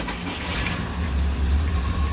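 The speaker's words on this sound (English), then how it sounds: "Yeah, starboard engine came on." A Carver Mariner 350 boat's starboard inboard engine turns over and settles into a steady, loud low rumble, with a brief higher burst as it catches.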